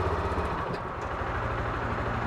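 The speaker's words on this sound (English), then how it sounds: "it's idling roughly right about like 1500 RPM" Close by, a Massimo TBOSS550 engine idles at around 1500 RPM, a steady low, throbbing rumble that holds even throughout with no voices over it.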